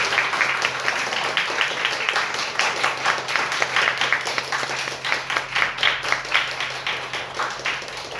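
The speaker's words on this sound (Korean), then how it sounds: "우리 박카스 선교사님 나오실 때 우리 뜨겁게 박수로 환영하겠습니다" A church congregation claps to welcome a missionary at a special testimony service. The applause is dense and steady, swelling into a rhythmic, fairly loud round of clapping in a large room.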